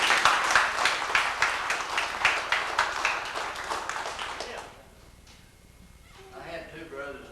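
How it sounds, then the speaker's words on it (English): A reunion audience applauds veterans with brisk, close clapping for several seconds before it fades out, after which a person begins speaking. "Let's give these men a round of applause."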